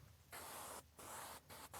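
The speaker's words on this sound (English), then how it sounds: "I'm going to spray like a U symbol." A spray bottle mists water onto a car's rear window for tint film installation, three close hissing bursts, the first long and the last two shorter, in a quiet setting.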